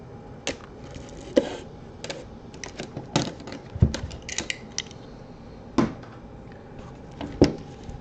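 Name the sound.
box cutter cutting open a box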